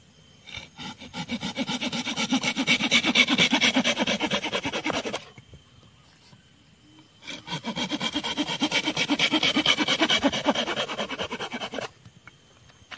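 A Silky pocket saw rasps back and forth through bamboo in two bursts of quick, rhythmic strokes, separated by a brief pause, close and fairly loud.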